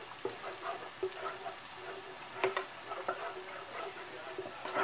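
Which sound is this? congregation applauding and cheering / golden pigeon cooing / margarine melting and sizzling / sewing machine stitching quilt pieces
margarine melting and sizzling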